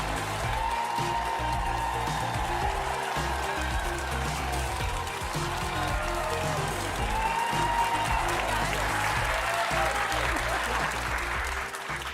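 A studio audience at a daytime talk show applauds Senator Elissa Slotkin's entrance, with steady, dense clapping and scattered cheers filling the room at full volume from start to finish.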